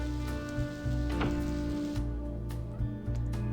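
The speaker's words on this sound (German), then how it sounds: "guckt mal, jetzt regnet's" Rain falls steadily in the video game Blackwell Convergence, a soft continuous patter with scattered droplet ticks, heard over a low background hum and with no voices.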